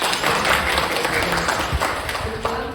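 Audience applause at a high school weekly reflection assembly, a scattered, moderate round of clapping filling the room for a few seconds, with some murmuring voices mixed in.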